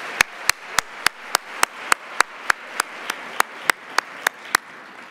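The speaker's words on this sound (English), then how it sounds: "give one more round of applause" An audience applauds at an evening celebration event, heard as a steady train of crisp, evenly spaced claps over a soft wash of crowd noise, sustained for several seconds with no talking.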